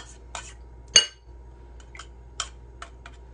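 A utensil scraping and clinking against a bowl while emptied canned tuna is mixed, a few sharp clinks and short scrapes spaced out over quiet hum.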